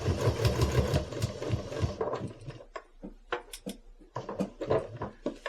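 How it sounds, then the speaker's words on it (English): A sewing machine machine-stitching binding onto a quilt, with a fast rhythmic whir of needle strokes near the start, then shorter bursts of stitching separated by pauses and small clicks. "I'm going to sew all the way up to that corner"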